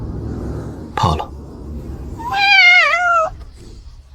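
A small black cat gives a single drawn-out, wavering meow, loud and close, after a brief thump, with faint low background rumble throughout.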